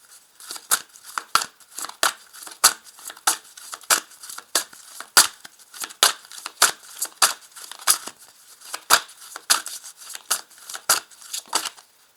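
Tarot cards being handled and shuffled: a long run of crisp, close papery snaps and flicks in an uneven rhythm, standing alone without any voice.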